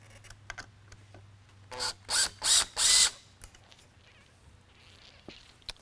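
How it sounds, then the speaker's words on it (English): Screwdriver backing screws out of a Code 3 420 Beacon mini lightbar: four quick ratcheting bursts in a row, close and crisp, amid faint scattered clicks and handling noise. "same screws are what I'm removing on the back here"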